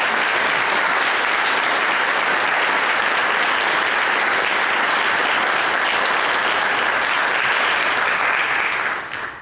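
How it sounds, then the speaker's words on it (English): Sustained audience applause at a college honors program cording ceremony, a dense steady wash of many hands clapping together for thesis advisors, loud and even throughout before tapering off at the very end. "Graduates, I invite you to give a round of applause for your thesis advisors"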